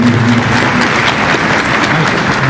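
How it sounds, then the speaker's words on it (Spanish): A loud, dense round of applause fills a classroom for the Universidad Internacional del Ecuador, with many hands clapping continuously and a faint low hum underneath. "Yo quiero que le den un fuerte aplauso a la Universidad Internacional"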